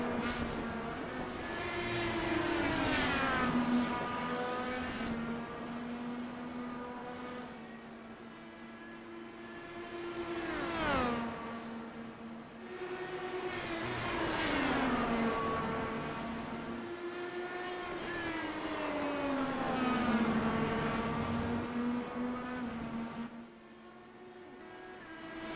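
IndyCar race cars circle the track during a US Indy Car League race, their engines rising and falling in repeated whining passes that swell near and fade away over several laps.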